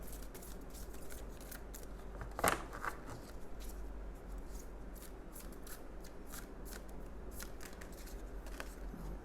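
Tarot cards being handled and shuffled during a reading make a soft, steady papery riffling with one sharper flick partway through, faint and close with no talking.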